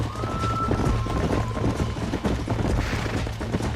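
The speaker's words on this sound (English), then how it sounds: "There's the horses!" Horses gallop in the Western video game Red Dead Redemption, a dense, continuous drumming of hooves with a steady rhythm, loud and close, mixed with game sound effects and a brief high whinny.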